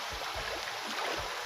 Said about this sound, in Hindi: मैं आपसे अभी शायद झरने की आवाज़ भी आपको आ रही होगी